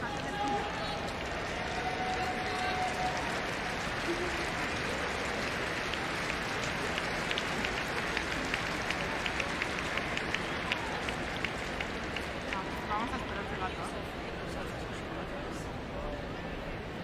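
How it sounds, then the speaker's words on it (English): Stadium crowd at a women's football third-place match applauding as a player leaves the pitch, a steady wash of clapping and crowd noise that stays even and fairly distant throughout. "Crowd giving Ogle a hand as she comes off."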